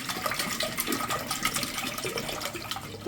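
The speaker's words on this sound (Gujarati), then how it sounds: "પાણી બનાવવા માટે આપણે 4 ગ્લાસ જેટલું પાણી લઈ લઈશું." Cold water poured into a vessel, about four glasses' worth, in a home kitchen while making street-style ragda puri; a steady, continuous splashing pour runs the whole time, fairly close, with no talking.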